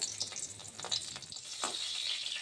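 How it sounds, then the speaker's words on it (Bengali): Pointed gourd frying in oil, the slices seasoned with salt and turmeric, makes a soft, continuous sizzle with faint crackles, steady and quiet with no voices. "এখন দেখুন পটল ভাজা হচ্ছে"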